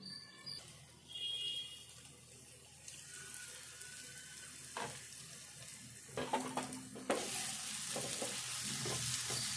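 Bitter gourd curry cooking in a covered pan gives a steady, soft sizzle and hiss with a few clinks and stirring scrapes, growing brighter and louder in the final seconds.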